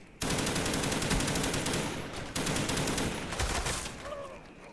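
Sustained automatic fire from an HK21 machine gun in the Black Ops video game, a dense rapid stream of loud shots running nearly the whole time with a brief break midway, no voices.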